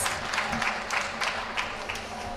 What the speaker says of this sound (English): All right, round of applause. Round of applause.